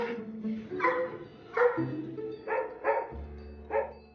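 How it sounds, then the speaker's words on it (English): Two pugs barking indoors, a run of about six or seven short, husky yaps and whines at an uneven rhythm, close and fairly loud with no one speaking. "I have 2 pugs."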